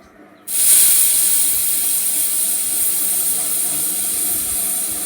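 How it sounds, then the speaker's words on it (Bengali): A pressure cooker holding about three kilos of meat lets off steam as it boils. A sudden loud, close, steady hiss starts after a quiet half-second and continues unbroken. "কুকারে অল্প অল্প করে সিটি দিয়ে হালকা সিদ্ধ করে নেওয়া হচ্ছে"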